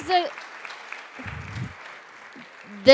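Faint, scattered applause from attendees at a school board meeting runs quietly through the middle, framed by a voice speaking briefly at the beginning and end.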